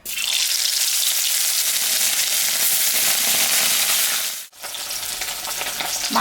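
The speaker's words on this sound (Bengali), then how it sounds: "মাছটা এখন আমি ভাজবো" Fish seasoned with salt and turmeric fries in hot oil, a loud, dense sizzle that runs steadily, dips briefly near the end, then resumes crackling.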